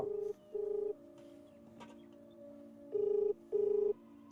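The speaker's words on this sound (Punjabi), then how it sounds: "ਫੋਨ ਲਾ ਸ਼ਾਹ ਨੂੰ" Outgoing phone call ringback tone, two short pulses, a pause, then two more, steady and moderately loud over faint background hum.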